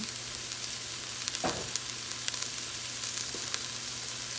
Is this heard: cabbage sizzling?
yes